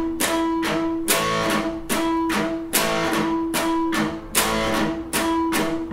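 Electric guitar played with a left-hand mute, steady rhythmic muted strumming in which ringing natural harmonic overtones keep sounding through each stroke, close and even with no voices.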